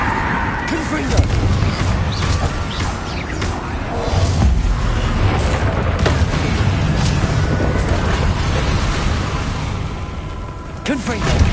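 Confringo explosive spell blasts in Hogwarts Legacy on PS5, heavy booming bursts repeating through dense, continuous battle noise with crashes and rumble, and voices calling out spells.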